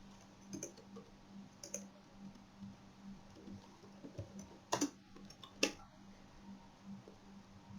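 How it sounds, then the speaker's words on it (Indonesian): Keys on a computer keyboard are tapped in sparse, irregular clicks, faint and close, with a few sharper keystrokes midway and a low room hum underneath. "Lalu kita ketik lagi tanggal suratnya."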